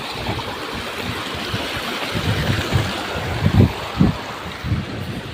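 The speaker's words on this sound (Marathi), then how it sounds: "ही नदी क्रॉस करायची आता चला" A village river in full flow, about to be crossed on foot: a broad, steady rush of water, fairly loud and close, with a few heavier splashing surges and no voices.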